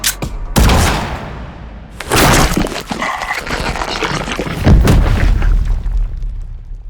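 A gunshot effect in an audio horror story: heavy booming blasts followed by crashing, shattering impacts, loud and close, with rumbling noise between them.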